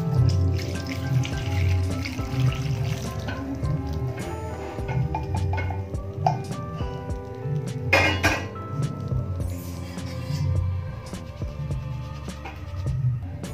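Cooking water is poured off boiled peas in a home kitchen, with a steady close splashing trickle plus clinks of metal and glass over about thirteen seconds.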